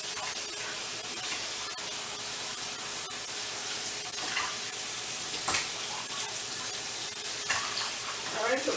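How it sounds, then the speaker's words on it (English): Kitchen faucet runs hot water steadily over cooked macaroni in a sink, a continuous rushing hiss with faint clatter, no talk. "I rinse it with hot water so I can keep it hot."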